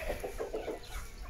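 A hen on a farm clucking in a short series of soft, rhythmic clucks, about five in quick succession, fairly faint and close, with light background noise and no speech.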